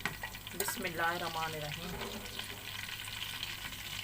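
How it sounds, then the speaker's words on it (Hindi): Taro root (arvi) frying in a pan over low heat, a soft steady sizzle with brief stirring clatter, as someone briefly speaks over it. "अब इसको मैं हल्की आंच पे फ्राई कर लूँगी थोड़ी देर"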